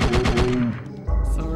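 Gunfire in the video game Parasite Eve II: a rapid burst of about five sharp shots in quick succession, followed by a trailing echo and a heavier thump, loud and close.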